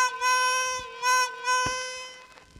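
A chromatic harmonica plays a sustained draw 4 note, bent with skill, as a clear harmonic-rich tone in three phrases with small pitch shifts and brief breaks between them, close and alone.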